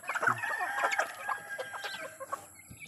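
Chickens clucking close by while being fed cracked corn, a busy overlapping chatter of hens with a few louder squawks, steady throughout.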